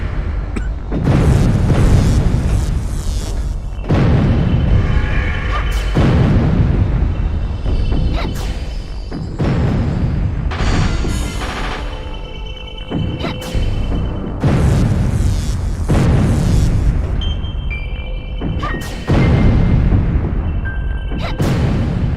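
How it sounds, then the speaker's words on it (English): Spike blocks exploding one after another in the video game Castlevania 64, a series of loud booming blasts with whooshing tails, roughly every couple of seconds across the whole stretch. "Dracula has some weird thing for pushing spike blocks against spike walls and watching them explode"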